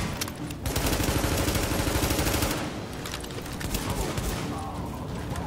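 Dense, continuous gunfire and shotgun blasts from The Division video game, overlapping rapid shots that roar loudly throughout with brief dips in intensity.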